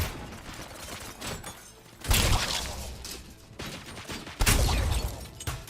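Gunfire in a RoboCop video game comes as two heavy, loud bursts of shots with thuds and crashes, separated by quieter stretches of softer impacts and mechanical noise.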